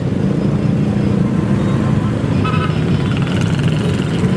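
Motorcade traffic at a fraternity anniversary parade in Pasig City, a constant loud rumble of vehicle engines close by with a brief faint beeping partway through and a steady wash of road noise.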